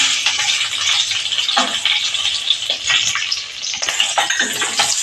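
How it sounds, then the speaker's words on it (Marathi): Green chillies frying in hot ghee over a cumin tempering, a steady crackling sizzle close by with brief stirring scrapes, no voices. "त्यावर आता आपण मिरच्या घालणार आहोत"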